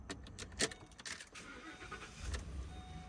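A 2014 Ford Expedition Limited with 4WD cranks briefly and starts, a short burst of starter whir catching into a low idle, heard close and fairly quiet with a faint jingle of keys.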